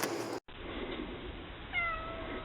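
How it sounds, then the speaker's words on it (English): An injured, limping cat on a homestead meows clearly up close in a couple of drawn-out, wavering calls near the end, after a quiet stretch of room background and a brief cut. "I hear this cat meowing"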